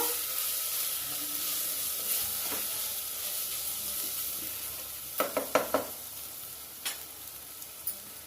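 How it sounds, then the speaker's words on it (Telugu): Ground masala paste sizzles steadily in a hot pan for a soupy buttermilk curry, with a few sharp clinks of a stirring spoon against the pan near the end. "ఇప్పుడు మసాలా వేస్తానండి ఇదంతా నూరుకున్నాం కదా మిక్సీలోకి ఇదంతా మసాలాలు వేపుకుంటున్నాను"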